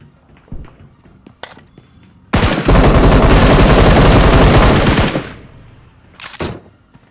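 Sustained automatic fire from an M762 rifle in PUBG Mobile, a loud continuous burst lasting about three seconds, framed by a few scattered single shots and softer thuds before and after.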